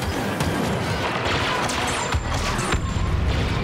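Dense, continuous battle noise from Battlefront II: layered gunfire and blasts with a sharp explosive hit near the middle, loud and unbroken for a few seconds.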